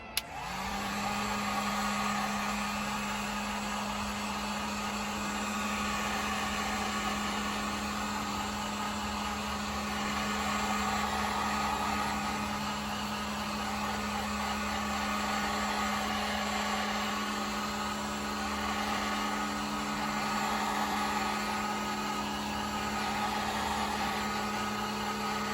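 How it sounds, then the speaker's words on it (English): A heat gun on its low setting blows steadily over a freshly painted fishing lure, giving a constant close airy roar with a low hum that continues unbroken throughout. "I'm going to hit it with the heat gun on low."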